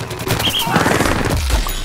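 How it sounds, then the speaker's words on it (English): A dense burst of rapid gunfire and booming blasts from a football cannon in Plants vs. Zombies Garden Warfare, loud and continuous throughout, with a low rumble swelling near the end. "Here he is combining the football cannon with his powerful sprint tackle attack."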